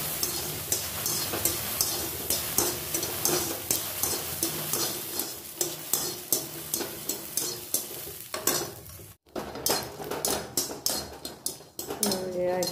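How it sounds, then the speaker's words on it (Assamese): Soaked, peeled peanuts frying in a pan for chutney, a steady sizzle under brisk, rhythmic spatula scrapes and stirring strokes, close up, with a short pause near the end and a voice faintly present. "এবাৰ আকৌ ফ্ৰাই কৰি ল'ম বাদামখিনি"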